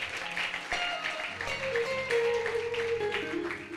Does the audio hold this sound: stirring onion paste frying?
no